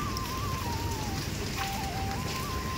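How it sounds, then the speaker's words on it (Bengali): Rain falls steadily as a dense, even hiss close by, with a faint tonal whine running underneath throughout. "এদিকে বৃষ্টি হচ্ছে"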